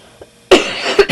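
A couple of sharp coughs close to the mic, one burst followed by a second shorter one after a brief pause.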